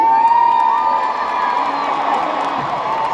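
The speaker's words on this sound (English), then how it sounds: "Please, don't cheer." A comedy show audience cheers, whoops and shouts together in a loud, sustained roar that holds steady for a few seconds.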